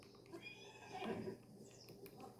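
A black horse whinnies in the video game Zelda: Breath of the Wild, a faint, drawn-out neigh lasting about a second within a quiet game soundscape, with background murmur.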